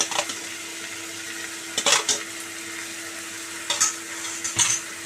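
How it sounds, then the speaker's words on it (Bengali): Taro leaves frying with spices and hilsa fish head in a pan, stirred with a utensil: a constant soft sizzle with a few close scraping clinks of the spoon against the pan. "দিয়ে খুব ভালো করে এর মধ্যে নাড়তে থাকবো। মেশাতে থাকবো আর খুব ভালোভাবে নাড়তে থাকবো।"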